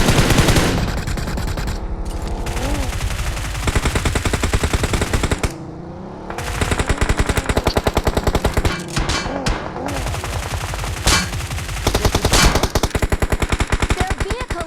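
Rapid automatic gunfire from a battle royale video game fills nearly the whole stretch, loud dense bursts with a brief pause partway through before the firing resumes.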